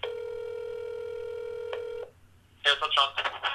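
A telephone being dialed, with a long steady tone and one brief click, then a quick burst of rapid keypad tones, loud and close, with no voices.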